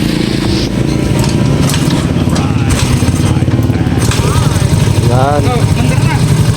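A Yamaha Mio i 125 scooter engine runs steadily after troubleshooting of a no-power fault, a continuous close, loud idle-like rumble with someone talking over it.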